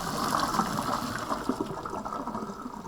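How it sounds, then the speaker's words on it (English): Cooked pasta and hot water pour from a pot into a colander in a steady rushing gush that fades slightly toward the end, close and fairly loud, with no voices. "tip your pasta into your colander."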